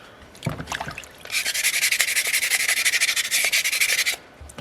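Steady back-and-forth abrasive scraping of wet sandpaper on a small soapstone carving, a quick rhythmic run of strokes lasting a few seconds, close by, with a few brief knocks before.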